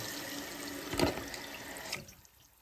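Water rushes steadily into a Kohler toilet tank through the fill valve, a continuous hiss with a brief louder surge in the middle before the flow cuts off and goes quiet near the end.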